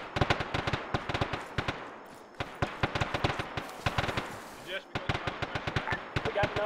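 Rapid automatic gunfire in the ARMA 3 Vietnam-era Unsung mod, dense bursts of sharp shots in quick rhythm with brief pauses, loud and close, and a voice briefly audible under it.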